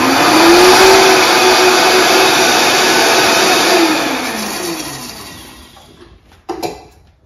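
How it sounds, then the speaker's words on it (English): A loud blender motor whirs steadily while blending aloe vera, its pitch rising then sagging as it runs, before cutting off with a brief clatter near the end. "I blend my aloe vera because I need it to be that liquid"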